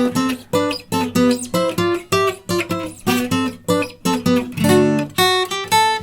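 Acoustic guitar picks out the steady melodic introduction to a song, bright plucked notes ringing one after another with a regular rhythm, close and clear, no voices.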